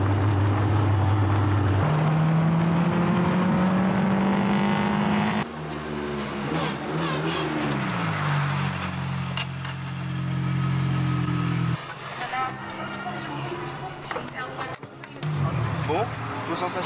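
Cars run laps on the Paul Ricard racing circuit, their engines droning and rising and falling in pitch as they pass. People talk over the loud, steady engine noise throughout.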